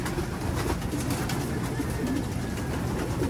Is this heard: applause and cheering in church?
no